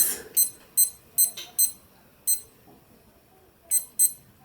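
A kitchen timer for baking a Victoria sponge cake, set for 30 minutes, gives a string of short, sharp electronic beeps in uneven bursts, fairly faint over a quiet room.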